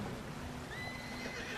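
In the Red Dead Redemption 2 video game, a horse crossing freezing cold water gives a drawn-out whinny over a steady wash of splashing water and ambient noise.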